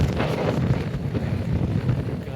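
Strong wind buffets a hilltop at Kotebetta, a steady loud roar and gusting rumble battering the microphone with no voice over it.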